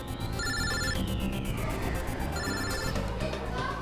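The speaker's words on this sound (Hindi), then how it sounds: "अभिजीत का फोन" A telephone ringtone goes off in a classroom at a boarding school, repeating tonal rings continuously over a busy backdrop of music and room noise, loud and steady throughout.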